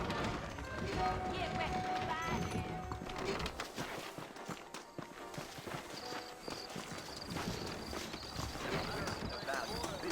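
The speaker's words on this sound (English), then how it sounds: "I got the horses saddled up and ready out front." Horse hooves clip-clop at a steady run in the Red Dead Redemption video game, with faint whinnies and music underneath, and game characters talk over the hoofbeats throughout.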